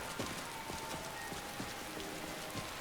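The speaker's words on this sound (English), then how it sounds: "Caught in the rain." Steady rain falls in Skyrim, a dense even patter of drops on surfaces with scattered sharper splats, fairly quiet and with no voices.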